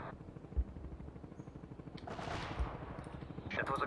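Artillery barrage in the World in Conflict strategy game: a few distant thuds and a broad rushing blast midway, with another burst near the end, over a steady rumbling battle bed.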